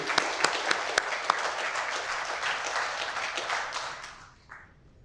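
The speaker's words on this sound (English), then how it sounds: "Big round of applause, please." An audience applauds for the vice chair at a Women's Day celebration event, a dense sustained burst of clapping that holds steady and then tapers off near the end.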